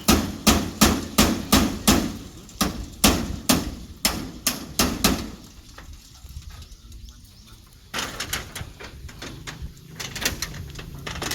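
Sharp metallic hammer blows drive nails into corrugated metal roofing sheet on a small field hut, ringing out in quick, regular bursts, pausing briefly before the strikes resume, close and loud.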